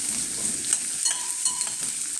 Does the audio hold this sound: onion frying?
yes